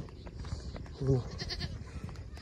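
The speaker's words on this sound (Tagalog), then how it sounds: "Sinundan ako ng kambing oh." A single short goat bleat rings out nearby amid background chatter and shuffling noise.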